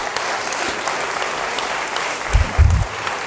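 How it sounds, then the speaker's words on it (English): Audience applause at a panel event welcoming the panelists, a dense steady clapping throughout that swells briefly near the end. "So why don't we welcome all of them with a round of applause"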